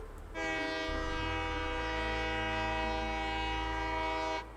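A train sounds a sustained, loud, rich horn blast for about four seconds over a low rumbling engine during a train ride in the Satisfactory video game, with no talking.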